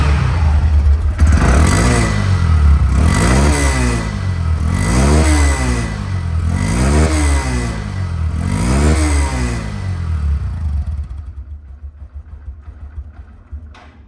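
A second-hand Honda Dream 110cc motorcycle engine is revved close up in five rising and falling bursts over a steady idle, then settles back and fades toward quiet.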